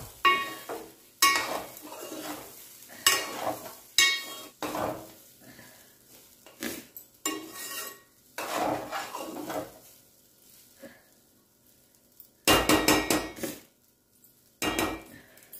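Mint rice with lemon juice is stirred in a pot on the stove: intermittent bursts of spoon scraping and metallic clanks, separated by quiet pauses, close and fairly loud.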